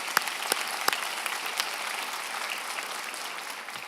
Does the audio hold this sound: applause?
yes